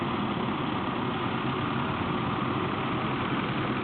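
Tractors doing night street cleaning idle with a steady, dense engine rumble that holds at an even level throughout, with no talking.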